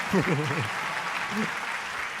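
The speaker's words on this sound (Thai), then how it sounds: "ลุกขึ้นยืนรับเสียงปรบมือจากทุกท่านในห้องนี้ด้วยค่ะ" A roomful of people applauding at an Amway diamond pin award ceremony, even, continuous clapping at moderate volume, with brief Thai speech over it at the start and again midway.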